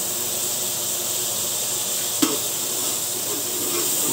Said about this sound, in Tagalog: Tunawin muna natin yung margarine bago isunod natin yung isang katutak na bawang.